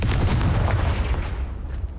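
A Confringo explosive spell going off in Hogwarts Legacy, a loud, dense blast with a rumbling low-end boom that sustains and decays slowly over about two seconds, with no talking.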